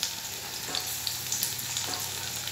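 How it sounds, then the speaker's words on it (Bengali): Chicken pieces frying in oil for chilli chicken make a continuous close sizzle with occasional stirring clatter, and no voices are heard. "চিকেনগুলো ভাজছে,"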